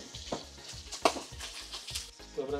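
Bicol Express with coconut milk bubbling in a pan, giving soft irregular sizzling and popping pulses with a few louder bursts, close and without talk.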